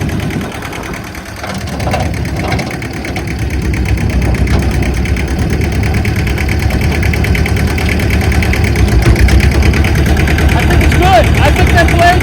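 Tractor engine running at low RPM as the PTO engages to drive a brush mower in a corn field, a steady loud mechanical drone that builds slightly and holds, with voices under it.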